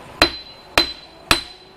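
Three sharp, evenly spaced metallic hammer strikes on a rough metal casting ring out, each a crisp bang with a brief ringing tail.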